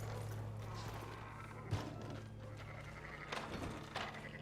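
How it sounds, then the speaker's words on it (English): Sheep bleat in the Western game Red Dead Redemption 2, several short, wavering calls spaced across the moment over a low farm ambience with soft hoof thumps, quiet overall. "Fine sheep."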